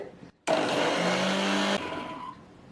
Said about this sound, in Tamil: இப்போ நம்ம ஆப்பிள் போட்டு ஜூஸ் பண்ணிக்கலாம்